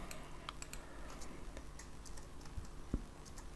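Rapid keystrokes on a computer keyboard while writing Kotlin code, a steady faint patter of clicks over a low hum, with no voices.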